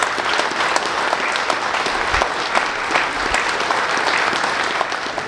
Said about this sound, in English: So please, a big round of applause for all of our speakers.